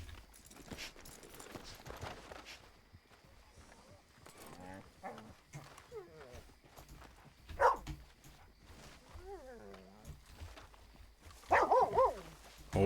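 A dog barks a few times in Red Dead Redemption 2, in a quiet town with horse hooves clopping nearby, while a player talks throughout.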